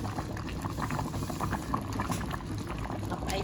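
Split mung beans and vegetables, including eggplant and chilli, boil in a pot with a steady, close bubbling and gurgling that continues throughout, and a faint voice is heard underneath.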